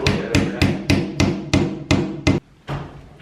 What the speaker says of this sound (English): You couldn't even tell it was hammered in with the deodorant.